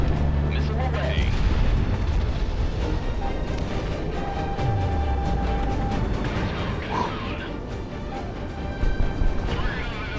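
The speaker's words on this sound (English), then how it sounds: "Missile away." Missile launch and explosions in the jet combat game Project Wingman: a dense, steady roar of booming blasts and rumbling fire fills the whole stretch, with a brief sweeping tone midway and no pauses.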